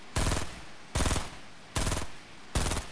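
Four evenly spaced bursts of rapid automatic gunfire in Fortnite, each loud, close and lasting a fraction of a second, separated by brief pauses.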